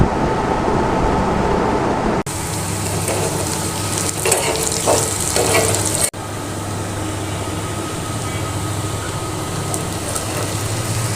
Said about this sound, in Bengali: রসুনটা আগে একটু নেড়ে নিলাম।